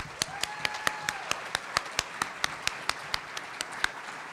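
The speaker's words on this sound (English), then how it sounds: "please join me in giving a round of applause to the graduate school staff" Applause for staff at a graduate degree ceremony comes as sparse, evenly paced claps, moderately near and fairly quiet, with a faint steady tone in the background and no speech.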